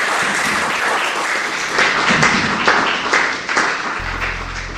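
An audience at an Italian book presentation gives sustained, dense applause in honour of the event's organiser, a continuous wash of many hands clapping that swells slightly before tapering off near the end.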